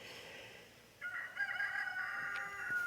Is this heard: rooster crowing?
yes